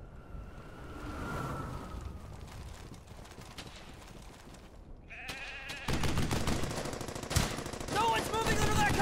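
Machine gun fire in the World War II shooter Brothers in Arms: Hell's Highway comes as steady rattling bursts under battlefield noise and grows louder and denser partway through. Distant shouting can be heard beneath it.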